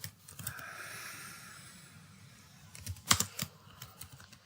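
A name being typed on a computer keyboard, with a quick cluster of sharp close key clicks near the end after a few isolated taps and a soft hum earlier.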